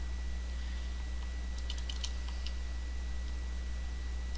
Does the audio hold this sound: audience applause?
no